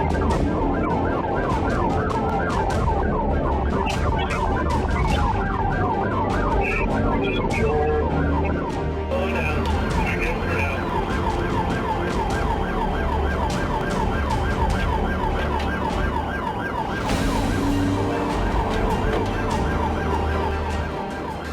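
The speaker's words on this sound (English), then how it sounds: "Sirens fill the air as the chase races across the interstate." Police sirens wailing continuously during a high-speed highway chase on an interstate, loud and close with rapid oscillating yelps over heavy road and engine roar, steady throughout with no pauses.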